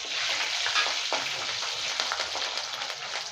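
Curry leaves and green chilies sizzling in hot oil with popped mustard seeds, a steady close crackling fry with sharp pops, alone without talk.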